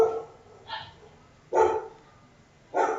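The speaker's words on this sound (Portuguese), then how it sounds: "os cachorros aqui estão tudo doidos hoje" A dog barks three separate times in a room, each bark loud and close, with quiet pauses in between and no talking.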